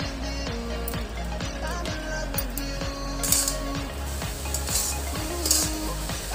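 A spoon stirs vegetarian Bengali-style cabbage curry with ghee in a pan, making a few metallic scrapes and clinks close by under steady, louder background music.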